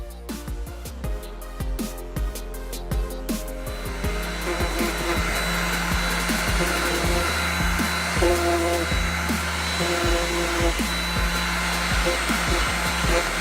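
Sanding a small wood inlay Christmas ornament with high grit sandpaper, heard as a steady, loud motor whine with a constant buzzing hum. Sharp clicks come at the start, then it settles into a continuous drone.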